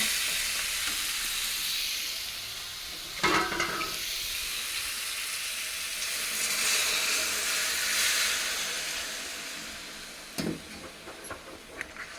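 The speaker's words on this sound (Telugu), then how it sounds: "తాలింపు పెట్టడం పూర్తయింది" Spices for tempering sizzle and crackle in hot oil in a pan for the whole stretch, a steady close hiss with a few sharper spits and pops partway through, and no voices.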